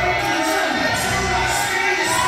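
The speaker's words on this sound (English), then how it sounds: "listen to this crowd" A crowd at a wrestling event roars and cheers steadily, loud and sustained throughout with no break.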